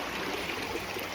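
A river stream near a campsite rushes steadily, a continuous broadband wash of flowing water with no breaks over a short moment.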